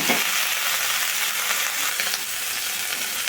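Chopped drumstick greens stir-fry over a low flame with pieces of fried eggplant in a pan, giving a steady, close sizzle with faint scraping as the mix is turned, and no one speaking.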